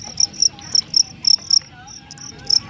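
Fighting crickets chirp in a staged cricket fight: loud, close, sharp chirps come in quick bursts of two or three at a steady rhythm, over a quiet background.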